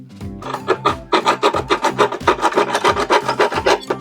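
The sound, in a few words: small handsaw sawing through material, DIY van build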